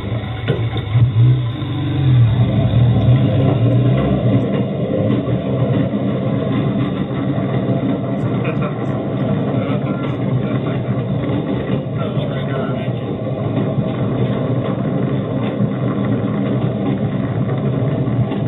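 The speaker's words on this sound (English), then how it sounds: "Going to be riding on the metal wheels instead of the front wheels." A hi-rail vehicle rides on its metal wheels along the Northwestern Pacific Railroad by the Eel River, producing a continuous low engine drone and rolling rumble with steady vibration, with talk over it.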